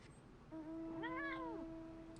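A single drawn-out meow from a fat cat, rising and falling in pitch over about a second, close and clear against a steady background hum.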